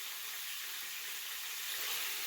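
Cube steak frying in a skillet gives a steady, bright sizzle and hiss, close and continuous with no voices.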